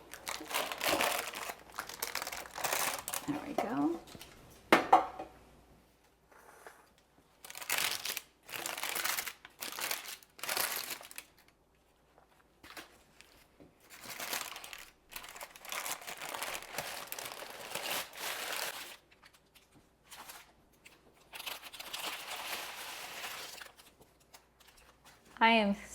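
Parchment paper crinkling and rustling in bursts as it is peeled off freshly baked carnivore bread loaves, the crackles coming in irregular clusters with pauses between and a short spoken remark among them.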